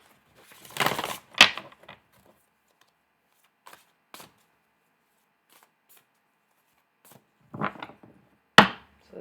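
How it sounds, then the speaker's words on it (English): A deck of playing cards being shuffled, with a dense riffling burst near the start, a few scattered faint clicks, then another riffle and a sharp snap near the end. "I just kind of shuffle until the cards stop coming out"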